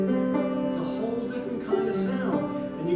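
Banjo strummed on an open chord with one string tuned up a half step, the notes ringing and sustaining in repeated strums, played alone and up close.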